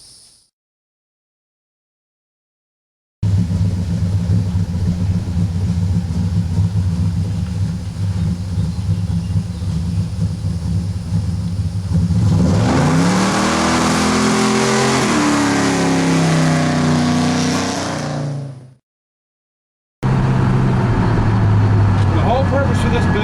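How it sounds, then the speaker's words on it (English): A 1970 Pontiac muscle car fitted with a Monster Transmission 200 4R automatic pulls away from a standstill, its loud engine drone swelling and rising in pitch through the gears before cutting off, then roaring again after a brief silence. "the 200 4R from Monster Transmission looks like doing the same takeoff in the 70 Pontiac"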